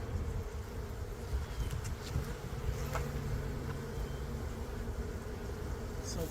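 A steady, dense buzzing of many honey bees at a hive fills the air, continuous and fairly close, with a faint low rumble underneath.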